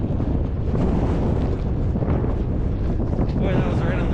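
Cold wind buffets the microphone while fishing for Yellowstone cutthroat trout, a loud continuous rumbling roar with gusty swells and no clear speech.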